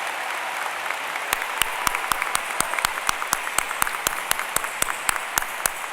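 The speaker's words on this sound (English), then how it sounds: "will you please give a warm round of applause to your future teachers and mentors" An audience applauds faculty members rising at a university matriculation ceremony: broad steady clapping fills the hall for the full stretch, with a few sharper individual claps standing out near the front.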